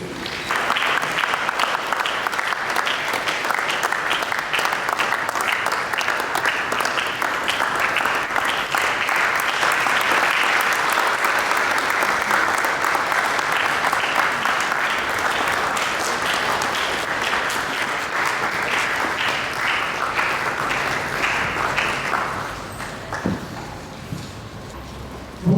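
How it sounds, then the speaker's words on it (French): Sustained audience applause at a youth conference, steady dense clapping for over twenty seconds before thinning out near the end. "Sous vos acclamations, s'il vous plaît."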